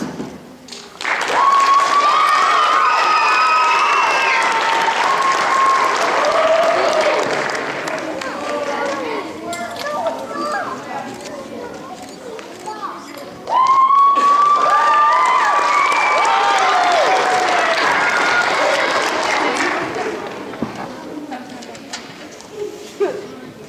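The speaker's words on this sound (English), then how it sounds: "Let's give another big round of applause for all our D.A.R.E seniors." An auditorium audience at a D.A.R.E. graduation ceremony in Tamaqua breaks into loud applause and cheering with shrill whistles, in two long sustained bursts separated by a brief dip.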